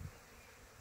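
Honeybees from a package colony buzz faintly inside a plastic shipping container, a low, steady hum that holds without a break.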